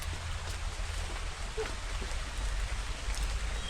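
Rain falls as a steady, even hiss with scattered drop patter, fairly faint and slightly building in intensity over a few seconds, with no voices.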